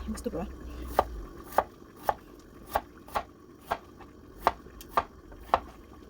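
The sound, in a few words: knife chopping celtuce (stem lettuce) stem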